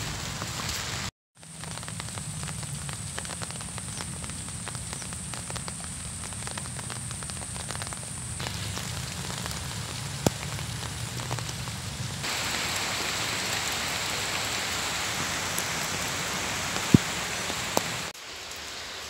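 Steady heavy rain pouring down, a dense hiss of drops on surfaces that grows slightly stronger toward the end.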